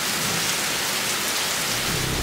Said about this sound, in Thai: ตอนนี้ฝนตกหนักนะครับทำอะไรไม่ได้เลย